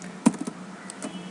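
Fingers tapping out a program on a computer keyboard, a short sparse burst of light clicks with one sharper keystroke near the start, close and fairly quiet, with no speech.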